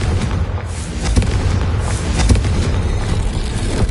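A Confringo fire spell blast goes off while lighting braziers in the video game Hogwarts Legacy, giving a loud, sustained booming roar with a few sharper thuds spread through it.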